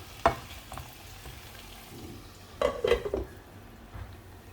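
A lid is set over a pan of cooking raw banana, giving a few clanks of metal against the pan under a low background sizzle.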